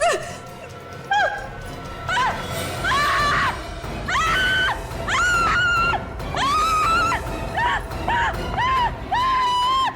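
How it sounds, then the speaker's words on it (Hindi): A woman screams in a CID crime drama scene, long piercing wails rising and falling again and again for ten seconds, loud and close, with faint background noise under them. "इतना चिल्ला क्यों रही हो?"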